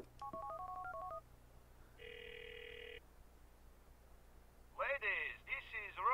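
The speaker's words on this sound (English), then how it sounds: "Nah, he's not answering the phone." Telephone dialing in Grand Theft Auto 4 on Xbox One: a quick run of DTMF keypad tones, then a steady ringback tone, followed by a burst of warbling electronic ringing, all over a low constant hum.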